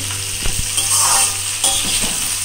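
Green chili and salt mixture stirred in a pressure cooker for a spiny gourd dish: a close sizzle with a few quick scraping knocks of the spoon against the metal, with no voices.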